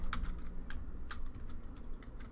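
Quick, uneven clicking of keys on a computer keyboard, close and fairly quiet over a low hum, with no speech.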